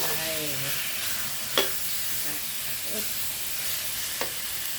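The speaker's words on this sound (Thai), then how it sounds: "แล้วก็ผัดแล้วนะคะจะใส่หมูลงไปเลยค่ะ ใส่กระดูกหมูอ่อนลงไป" Soft pork bones stir-fried in a pan for a Thai herbal chu chee dish, giving a steady sizzle with occasional scraping stirs and clinks close by.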